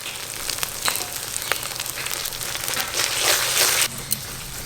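Turmeric paste sizzles in hot oil with ginger, garlic and onion already fried red, a steady close crackle that swells louder for about a second before settling, with a few sharp ticks.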